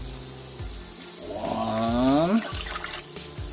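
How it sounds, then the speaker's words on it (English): Water pours from a cup into a slow cooker with beef and vegetables, a rising gurgle as the level builds, close and steady over a low background hum, with a brief spoken word. "We will have to add 2 cups of water."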